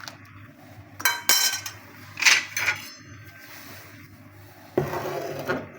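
Metal spoon stirring salt into boiling water in a cooking pot for chicken biryani, giving a few scraping, clinking strokes against the pot over a steady bubbling background.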